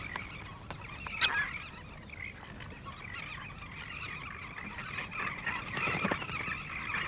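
A busy seabird colony of royal and elegant terns with gulls, adults coming and going and hungry chicks begging, keeps up a dense, continuous chorus of overlapping calls, with a few louder cries standing out near the start and toward the end.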